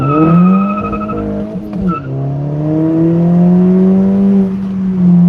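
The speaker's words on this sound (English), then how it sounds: "With a little bit of tire slippage, we get that traction control kicking in." A loud car engine drones and revs steadily, with a brief dip and a squeal of tires slipping before the engine pulls hard again.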